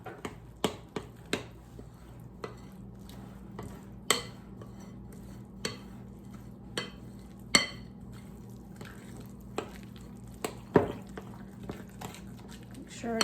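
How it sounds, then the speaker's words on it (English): A spoon mixes zucchini bread batter in a bowl, giving soft irregular clinks and taps against the sides, quiet and close, with a person talking over it. "I'm not going to beat it, or just going to do it with a spoon"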